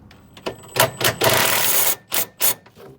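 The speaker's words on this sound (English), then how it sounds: "Just get the ratchet the right way around." A socket ratchet rattles on 18 mm bolts under a motorcycle being restored, with several short quick bursts of clicking and one longer run of ratcheting, close and fairly loud.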